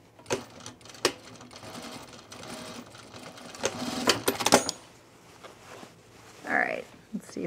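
A sewing machine stitches in short, uneven bursts while re-sewing a small spot on a garment, with quiet pauses between runs, close and moderately loud.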